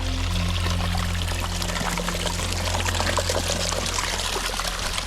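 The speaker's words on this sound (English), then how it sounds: "Spring coming right out of the mountain." Spring water pours out of a rocky mountain slope in a forest, a steady close trickle and splash running continuously, with a low steady hum beneath it.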